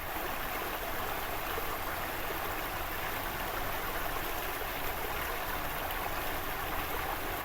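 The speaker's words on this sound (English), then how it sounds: "The water is very loud as well" Steady rushing water flows continuously in a truck simulator video game, a loud, even broadband wash like a stream or small waterfall with no talk over it.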